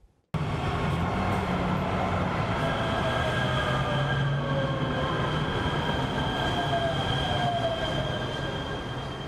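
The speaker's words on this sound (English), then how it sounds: "Jeremy Levin catches the metro to get everywhere." A Los Angeles metro train running at speed, a loud continuous rumble with whining wheel squeal and rising tonal hum, starting abruptly and staying close throughout.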